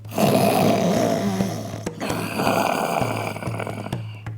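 Deep, rasping snores from Baba Yaga, the witch asleep in her hut, come as two long loud rattling breaths with a brief catch between them, close and heavy, with a low hum underneath.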